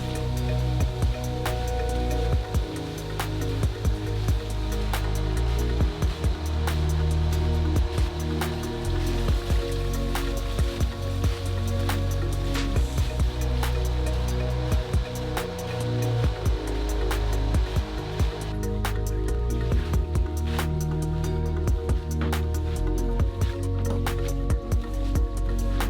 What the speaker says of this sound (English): So I just finished flushing the rug out and then passing the squeegee over it.